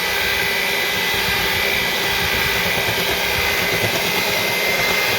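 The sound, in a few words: electric hand mixer on low mixing cupcake batter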